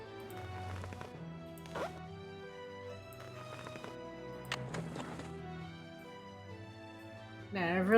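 Horse hooves in the video game Nancy Drew: The Secret of Shadow Ranch clip-clop in a few scattered bursts over a soft tonal background, ending with a brief rising electronic sound.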